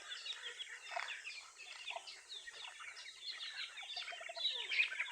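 Several chickens cluck and chatter in a busy, continuous jumble of short calls, fairly close, with no talking.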